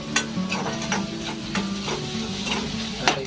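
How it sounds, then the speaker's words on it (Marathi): Onion sautéing in oil with salt, stirred repeatedly so that a spatula scrapes the pan in quick rhythmic strokes over a close, steady sizzle. "कांदा थोडासा तेलामध्ये परतून घेऊन मीठ टाकले"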